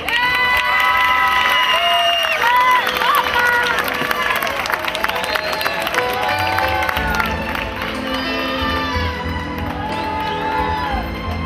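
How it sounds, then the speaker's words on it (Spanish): A crowd at the Serranilla de Mágina pageant in Huelma cheers, whoops and shouts through steady applause, a loud, dense wash that holds throughout, with voices calling out over it. "Recibimos con un fuerte aplauso a Ana Montoro."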